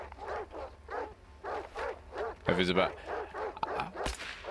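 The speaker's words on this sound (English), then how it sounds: "there's a pseudo dog and regular dogs over here" Dogs and a mutant pseudo-dog barking and yipping in S.T.A.L.K.E.R. 2, a steady run of repeated barks at mid distance with a sharper burst near the end, while people talk over them.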